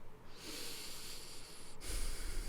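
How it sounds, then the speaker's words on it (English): Slow, deep human breathing close to the microphone, a long airy inhale followed by a fuller, louder exhale with a faint nasal snort, alone without talk. "Okay, breathing, taking deep breaths."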